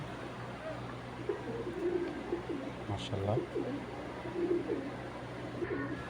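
Pigeons coo in low, repeated bursts, brought from a club and kept among fancy pigeon breeds, with someone talking over and between the calls against a steady hum.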